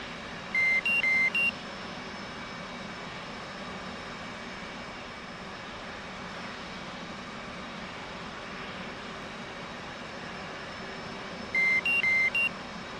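Engine noise from a flight simulator game fills the clip: a steady, broad roar of a running aircraft engine, with short electronic beeps at the start and again near the end.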